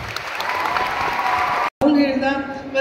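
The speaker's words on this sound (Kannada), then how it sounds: "ಫಸ್ಟು ಎಲ್ಲ ಮಕ್ಕಳಿಗೆ ಒಂದು ದೊಡ್ಡ ಚಪ್ಪಾಳೆ" Audience applause for children at a cultural program in Kateel, a steady broad wash of clapping that breaks off briefly, then returns with a voice speaking over it.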